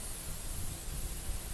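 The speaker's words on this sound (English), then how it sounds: "So we'll just give it a bit of a shake, and we give it a little spray like that." Filter oil is sprayed from an aerosol can onto a car air filter during an oil change, producing one steady, close hiss with no talking.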